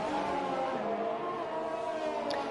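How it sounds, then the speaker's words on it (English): A Formula 1 race car engine screams at high revs in a racing video game during an overtaking move, a steady loud whine held throughout with no talk over it. "Revs wide open, going for the inside manoeuvre."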